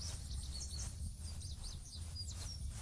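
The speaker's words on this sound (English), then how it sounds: "Where the bird sounds are coming from?" Faint, repeated bird chirps sound in the Roblox game, light tweets over a steady low ambient hum with no voices.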